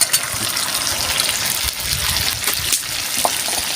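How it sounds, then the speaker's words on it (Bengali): Fried potatoes tipped into a pan of chicken curry set off a loud, dense, continuous sizzle and hiss with a few stirring scrapes, close by and with no speech. "এবার আমি আলুগুলো দেবো, ভাজা আলুগুলো"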